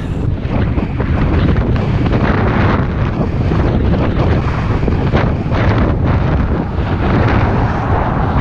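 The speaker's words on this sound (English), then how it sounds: "there's a little bit of headwind" Headwind buffets a cyclist's microphone on a 100 km audax ride through Derbyshire and Nottinghamshire, a loud, continuous roaring rumble that never lets up and drowns out everything else.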